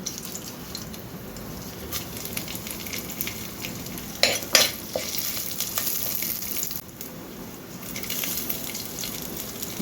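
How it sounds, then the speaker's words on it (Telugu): Garlic, dried red chillies and curry leaves crackle and sizzle in hot oil in a pan, a steady close frying hiss with a few sharper pops midway and no talk. "ఆయిల్ వేడైంది ఇందులో పోపులు వేసుకుందాము ఇప్పుడు వెల్లుల్లి ఎండుమిర్చి కరివేపాకు ఈ మూడు వేసుకుందాము"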